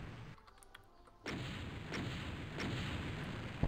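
Rocket fire in the video game Ultimate Doom: several heavy booming blasts in quick succession, loud and close, each followed by a rumbling tail over a dense roaring background.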